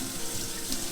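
Cold tap water runs steadily into a sink while cilantro is washed, a close, even rush with no talking.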